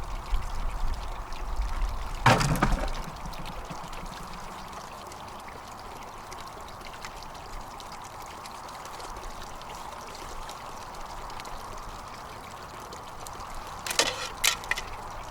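Water pouring to rinse out a funnel beside a gold drywasher setup, a steady continuous stream with a couple of brief clattering knocks near the start and end.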